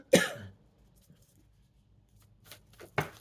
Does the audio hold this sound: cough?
yes